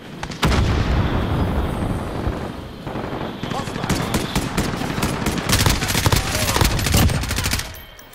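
Dense video game gunfire and an explosion in Call of Duty Modern Warfare, with rapid automatic bursts and heavy booms crowding together loud and continuous for several seconds, a voice talking underneath.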